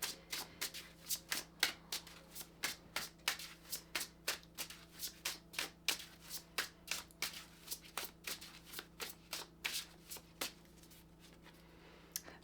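A deck of Witches Oracle cards is shuffled by hand in a quiet room, a steady run of soft, crisp riffling flicks repeating at a brisk, even rhythm throughout.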